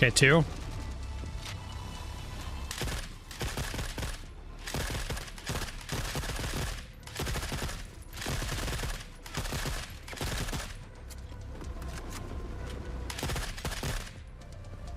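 Sustained gunfire from the video game Forever Winter, bursts of automatic fire repeating in rhythmic volleys with brief gaps throughout, loud and dense, with someone speaking briefly over it.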